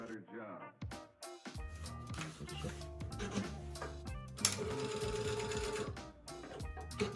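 A Juki DDL 8000A industrial sewing machine with auto presser foot lifter runs in quick, steady bursts of rapid mechanical stitching, close and clear, with someone talking over it.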